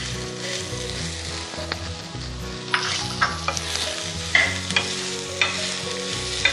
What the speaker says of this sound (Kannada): ಇದನ್ನು ಮಸಾಲೆ ವಾಸನೆ ಹೋಗೋ ತನಕ ಹುರ್ಕೋಬೇಕು, ಈರುಳ್ಳಿ ವಾಸನೆ ಎಲ್ಲ.